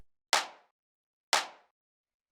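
A single clap drum sample from a layered deep house clap, sounding twice about a second apart, each a sharp bright snap with a quick noisy decay and silence between.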